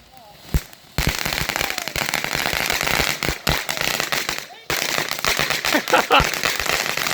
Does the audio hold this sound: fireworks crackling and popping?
yes